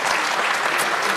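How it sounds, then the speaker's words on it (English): A studio audience at a televised debate show in Elgin, Scotland, applauds steadily, a dense, even wash of clapping that fills the short moment without a break. "You can tell from the applause"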